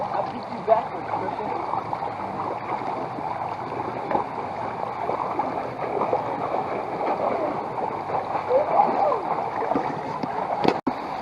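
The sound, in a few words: waterfall splashing on a water ride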